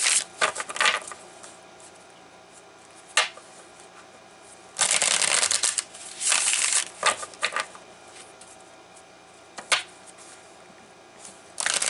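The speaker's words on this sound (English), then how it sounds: "So we're going to pull some cards here" Tarot cards are shuffled by hand in repeated crisp bursts of riffling and slapping, with quiet gaps between, close up and without talk.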